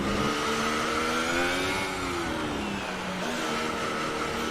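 Engine roar of a Ferrari Formula 1 car in F1 2018, racing at Silverstone, with steady harmonic whine that shifts pitch as it closes in and passes, continuous and loud without talk.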